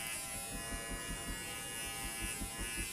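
An electric trimmer shaves excess pile off a tufted rug, giving a steady close buzzing hum with a faint pulsing as the blades cut through the yarn, heard alone without speech.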